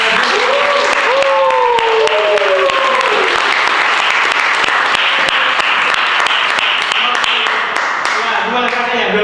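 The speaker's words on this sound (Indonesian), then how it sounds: "Bapak Ibu, teman-teman, boleh kita beri tepuk tangan?" Sustained audience applause fills a presentation session at a school, dense clapping steady throughout with voices and a few cheers mixed in over it.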